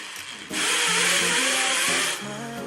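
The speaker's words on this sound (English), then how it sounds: "we carefully drill the holes on the marked spots" Power drill boring holes into bathroom tiles for a grab bar, one close burst of about a second and a half of steady whining grind that starts and stops abruptly.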